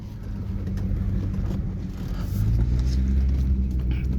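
A steady engine rumble from inside a moving vehicle, low and continuous, growing slightly louder and heavier partway through as it pulls along.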